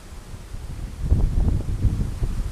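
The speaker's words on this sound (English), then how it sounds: "God damn, is it windy." Strong outdoor wind gusts steadily at a plein air painting spot, a continuous low buffeting roar against the microphone that swells and stays loud throughout, with no talk.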